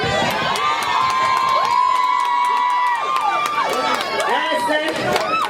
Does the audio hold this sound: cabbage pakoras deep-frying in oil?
no